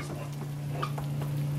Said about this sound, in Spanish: Cebolla frita.